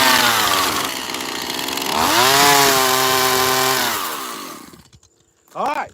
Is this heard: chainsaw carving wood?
yes